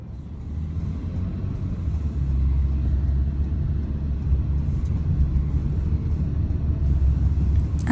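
Low, steady road rumble inside a car driving on the way to a university in the USA, a continuous close drone with no voices.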